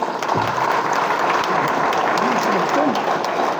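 A crowd applauds steadily throughout, a dense patter of clapping, while a voice speaks over it at a political press event in Ratnagiri.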